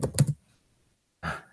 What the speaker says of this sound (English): I'm doing some quick typing here.